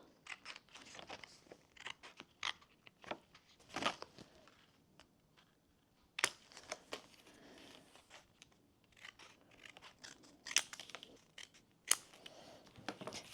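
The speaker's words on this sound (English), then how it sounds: "You need to cut these 3 strips off." Scissors cutting three strips off a cardboard game card for an escape-room advent calendar puzzle, heard as a series of close, crisp snips and crunches with small handling rustles between them.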